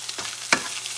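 An egg frying in a pan for a turkey leftovers dish, a soft crackling sizzle with a sharp tap of utensil on pan midway, close and brief.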